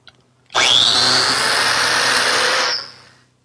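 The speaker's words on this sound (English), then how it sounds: "I'm simply placing the biscuit joiner against the cleat and making the corresponding slots." A biscuit joiner cuts a slot in redwood, a loud, close, high-pitched whine and grinding that starts abruptly, holds steadily for about two seconds, then winds down.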